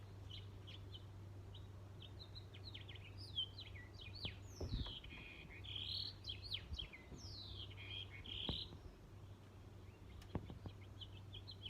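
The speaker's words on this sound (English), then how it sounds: "little bird, for singing us a beautiful song" A small bird sings outdoors in a quiet setting, bursts of thin high chirps and trills scattered over several seconds, faint and distant above a steady low hum.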